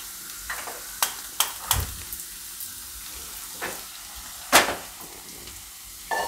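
Potatoes frying in oil for a Gujarati mixed vegetable shaak, with a low steady sizzle broken by several sharp clinks and scrapes of a spoon stirring the pan, no talking.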